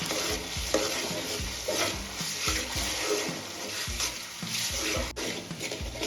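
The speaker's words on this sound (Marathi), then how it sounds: "इथे अद्रक लसूणची पेस्ट आपल्याला व्यवस्थित परतून घ्यायची आहे" Ginger garlic paste sautéing in a pan, with a spoon scraping and stirring in a quick regular rhythm over a continuous sizzle, close up with no talk.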